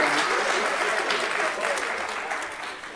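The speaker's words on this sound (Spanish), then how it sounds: "Pero yo no entendí por qué aplaudieron si no acabé." Audience clapping fills a lecture hall on lithium geopolitics in La Paz, Bolivia, a dense steady wash of many hands that fades slightly toward the end, with a few voices mixed in.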